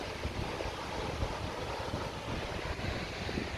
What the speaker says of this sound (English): Bit of wind.